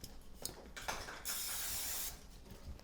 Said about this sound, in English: And you're going to spray the pan first.